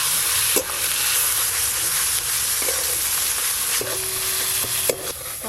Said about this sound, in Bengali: এবার ওপর দিয়ে আদা রসুন বাটা, লঙ্কা গুঁড়ো, হলুদ গুঁড়ো দিয়ে একসঙ্গে ভালো করে কষে নেব।